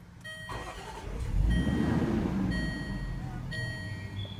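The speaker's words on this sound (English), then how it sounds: "And the engine is on." A 2014 Range Rover Sport Supercharged V6 HSE starts up by push button, its engine catching with a low rumble that swells, then settles into a steady idle, close and moderately loud.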